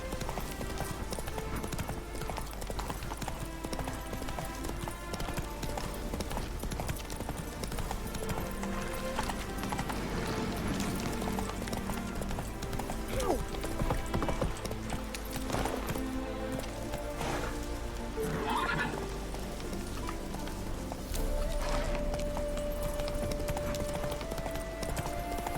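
In The Witcher 3, a horse gallops with rapid, rhythmic hoofbeats and lets out a neigh partway through, set against continuous game music and ambience.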